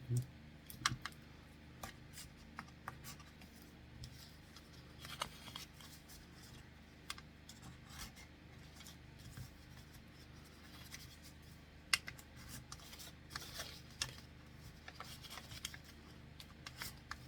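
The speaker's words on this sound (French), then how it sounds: "Alors, on vient tout plier" Scored cardboard folded by hand into a box, giving faint, intermittent crisp creasing and small clicking taps, close by and quiet.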